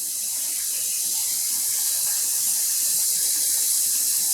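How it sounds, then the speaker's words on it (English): Water runs from a tap into a bowl used for rinsing hand-dyed yarn, a steady loud hissing gush that continues without a break and with no voices. "I'm going to pour in some water here so that the yarn has a little bit of space to move in the bowl"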